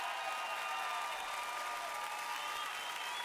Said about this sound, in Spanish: Un aplauso a esta maravillosa orquesta.